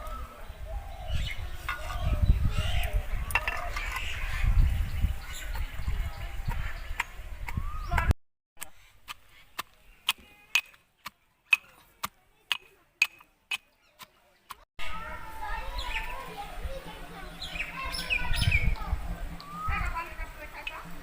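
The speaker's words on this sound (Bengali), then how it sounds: "পটলের বিচুনগুলি এবার থেঁতো করে নেব।" Pointed gourd (potol) seeds crushed by hand for a Bengali stuffed-gourd filling: about ten sharp, separate knocks in a sudden quiet stretch, with busy background noise and voices before and after.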